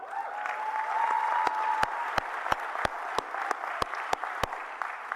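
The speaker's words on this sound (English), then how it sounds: "They deserve a round of applause" Commencement ceremony audience applause, a continuous wash of clapping with a string of sharp, evenly spaced louder claps standing out near the microphone.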